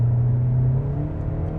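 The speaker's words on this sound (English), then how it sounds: "All right, I'm hearing that engine more there." Low steady engine drone from inside a 2026 Kia K4 hatchback with its 2.0-liter four-cylinder in sport mode, a brief rumbling hum that eases slightly partway through.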